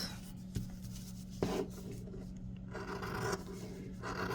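Material for a handmade shoe for a 16-inch fashion doll is trimmed up close, giving soft rasping, rubbing cuts with a few small knocks, quiet and continuous.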